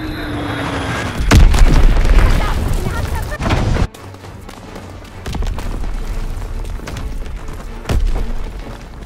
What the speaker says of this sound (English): bomb incoming. Get to cover.